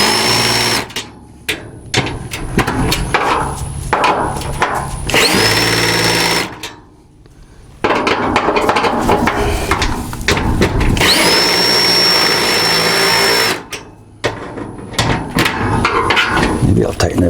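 A power tool drives quarter-20 bolts about 3/4 inch long into greenhouse raised beds, with two loud sustained whirring runs of several seconds each that rise in pitch, separated by brief pauses and rattling handling noise.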